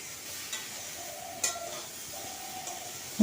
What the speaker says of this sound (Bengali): দিয়ে আমি এটা কিছুক্ষণ ভেজে নেব এরপর ডাঁটাগুলো দিয়ে দিচ্ছি